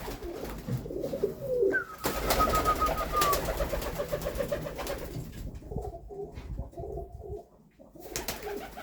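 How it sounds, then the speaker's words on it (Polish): Pigeons, including young tippler pigeons, coo softly and repeatedly in a winter loft, with low throaty calls rising and falling, punctuated by brief wing flutters and rustling, with no one speaking. "Gołąbki wesołe, bruchają."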